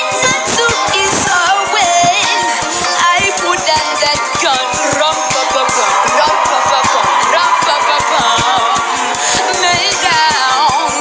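A crowd cheers and whoops continuously at a live singing performance, loud and dense throughout, blended with music and voices.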